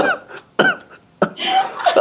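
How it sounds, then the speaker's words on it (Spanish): Three sharp, close coughs come at roughly even intervals, each a loud abrupt burst followed by a short breathy tail, with a hoarse throat-clearing sound and faint voiced noise at the end. "A ver, toser. Así, no, necesito toser."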